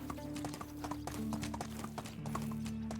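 Rhythmic clip-clop of horse hooves during a ride in the medieval game Medieval Dynasty, steady and close, with a constant tonal hum and light background music beneath.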